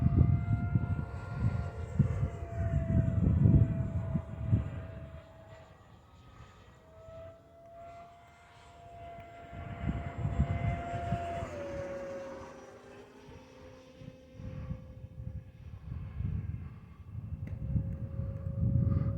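FMS Futura 64mm electric ducted-fan RC jet with an afterburner kit flying overhead: a steady high whine that rises and falls as it passes, with a faint whistle over a rumbling low end, heard from a distance outdoors.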